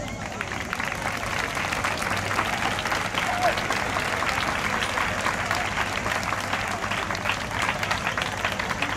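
A crowd at a Fallas presentation event in Beniferri applauds the falla's honor court, with steady, dense clapping that holds for the whole stretch at an even, full level.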